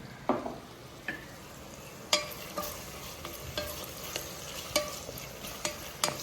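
Onions and green chillies sautéing in a pan, a steady low sizzle broken by sharp, irregular scrapes and clinks of a spoon stirring against the metal, close by with no talking.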